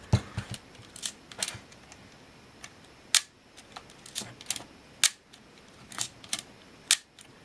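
A Ricohflex twin-lens reflex camera shutter firing at 1/250 second, a series of sharp, close mechanical clicks spaced irregularly about half a second to a second apart, with faint handling noise between them.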